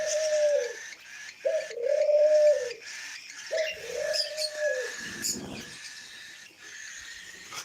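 Australian dove in a home aviary giving three drawn-out cooing calls in a row, close and clear, followed by a brief rustle and faint chirps from other birds nearby.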